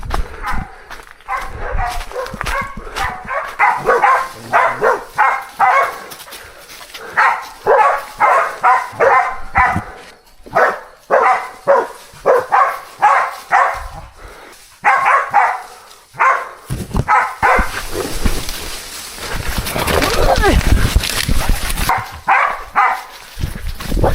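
Hunting dogs barking excitedly on a fresh scent in a swampy forest stretch of century palms, repeated bursts of loud, rapid barks in rhythmic volleys with short pauses, close by, ending in noisier rustling movement.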